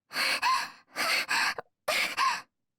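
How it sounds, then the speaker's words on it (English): A girl gasps for breath in the Princess Evangile visual novel game, three ragged pairs of sharp, close breaths with short pauses between them. "The girl seemed to have trouble breathing too"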